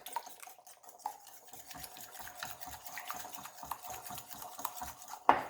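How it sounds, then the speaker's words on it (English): Eggs being mixed in a bowl, a quick rhythmic whisking with steady repeated strokes, soft and close, ending in a louder clatter. "So we're going to mix that up."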